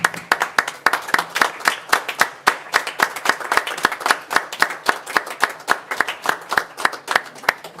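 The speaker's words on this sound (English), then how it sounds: "give a round of applause, a standing ovation to our employees" A board meeting's standing ovation for employees comes through as a close, loud round of clapping from a small group, with distinct individual claps in a lively, uneven rhythm continuing throughout.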